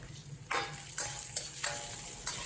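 Dried chilies and Sichuan peppercorns go into hot oil with rendered pork belly fat, producing loud bursts of crackling sizzle in several waves over a continuous frying hiss, close up and with no voices.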